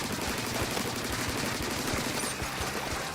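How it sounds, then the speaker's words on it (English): Explosions and rapid gunfire-like bursts in the ink-shooting video game Splatoon 3, a dense, continuous rattle of loud pops and blasts filling the whole moment with no talk. "Oh gosh, explosion!"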